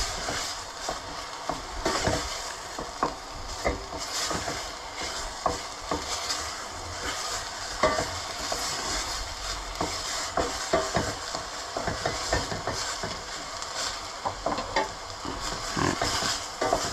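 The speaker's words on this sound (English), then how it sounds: "So keep on stirring" A home-style curry stirred and frying in a pan, with a steady broad sizzle and repeated scraping and clacking of the spoon against the pan continuing throughout at close range.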